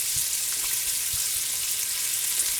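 Bacon frying in a pot for Southern-style canned green beans, a steady close hiss of sizzling fat with a few soft low pops and no talking.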